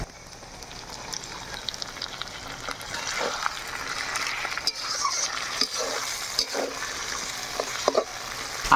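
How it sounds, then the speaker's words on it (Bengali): Ginger paste, chopped tomato and onions sizzle in a pan for a Bengali fish-head curry while a spatula scrapes and stirs, with a crackling fry and irregular close scraping strokes. "আমরা কিন্তু আদা বাটা দিয়ে বেশ খানিক্ষণ নাড়িয়ে নিই।"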